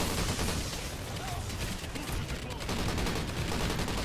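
Sustained MG42 machine gun fire in a video game, a loud continuous rattling burst filling the whole stretch, with faint voices underneath.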